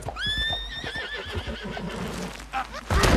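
A horse in the video game Red Dead Redemption 2 gives a loud, wavering whinny, followed by hoof clops and heavy thuds, close and clear.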